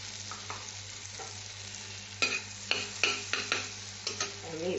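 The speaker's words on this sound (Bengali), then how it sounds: "এই মাখনটা দিয়ে দিলাম।" Butter sizzles in a little oil in a pan with a soft, low frying hiss, while a utensil stirs and taps nearby in a series of distinct clicks over a steady background hum.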